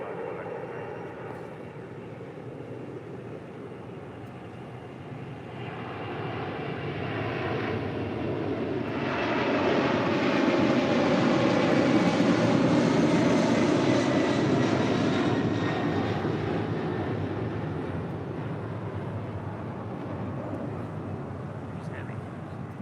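An aircraft lands on runway 25 left at LAX. A broad engine rumble builds and peaks toward the middle before easing slightly, heard at a distance with talk over it.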